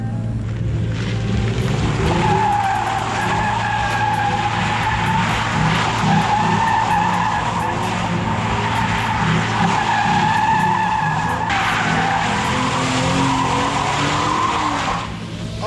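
A Mustang slides across a huge parking lot with a sustained, loud tire squeal over a roaring engine, the screech wavering and surging for several seconds, close by and with no talking.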